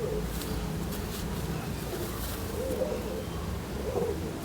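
Soft, low cooing from old-breed high-flyer pigeons, repeated murmurs sitting under a constant background hum, fairly close but not loud.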